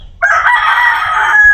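A farm rooster crows once, loud and close, a single long sustained call with no talk over it.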